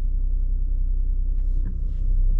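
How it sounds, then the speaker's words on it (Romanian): Low-mileage Audi A6 C8 engine idling while stationary, a steady close low rumble with faint brief background noises partway through. "Și chiar și motorul se aude bine."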